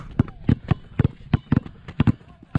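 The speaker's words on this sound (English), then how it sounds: "pound the ball fast as you can" Basketball dribbled hard and fast on a court during an agility drill: a rapid run of sharp, punchy bounces, some tightly doubled, ringing out in quick uneven rhythm close by.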